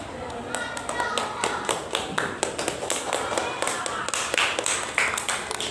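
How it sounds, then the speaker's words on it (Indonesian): A classroom claps after a group finishes presenting in a science lesson on friction, with distinct, close hand claps in an uneven rhythm and talking in the background. "Terima kasih, tepuk tangannya."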